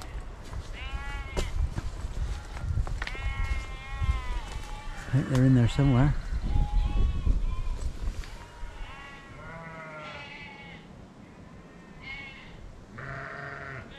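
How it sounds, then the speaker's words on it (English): Sheep bleating repeatedly along a coastal path in Cornwall, loud wavering calls from several animals at close range, overlapping, with people talking in between. "it's the first time in the 15 days we've been away that we've actually heard sheep"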